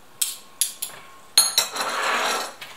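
A plate and a spoon are handled while serving zucchini fritter batter, giving a few sharp, close clinks in quick succession followed by a brief scraping clatter and one last light tap.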